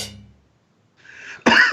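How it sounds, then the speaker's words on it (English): A single sharp cough bursts out near the end, loud and close, after a brief quieter noise and a moment of near silence. "And there's the cough."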